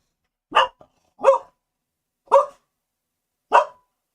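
A dog barks four times in a video game set in Genshin Impact's Nod Krai, each bark sharp and mid-pitched, evenly spaced with silent gaps between, close and clear with no talk.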